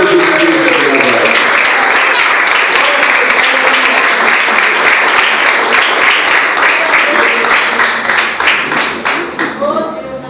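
A church congregation breaks into loud, sustained applause during a healing service, with dense clapping and cheering voices filling the space before the clapping thins and becomes more distinct toward the end.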